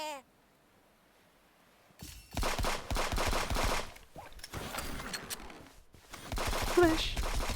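Turrets in Frens vs Frens fire in rapid, loud bursts, a dense rattling volley broken by short pauses, then resuming with scattered higher-pitched pings.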